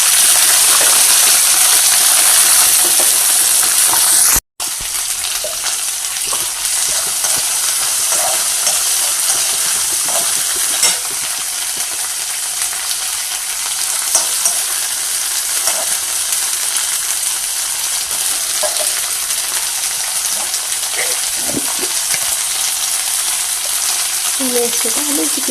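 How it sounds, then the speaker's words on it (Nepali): Timur, a Nepali pepper, fries in already hot oil, a loud continuous sizzle with a brief drop near the start and small crackles and stirring sounds, a voice faintly in the background. "अब चाहिँ म यसमा यो टिम्बुर यसरी हाल्छु"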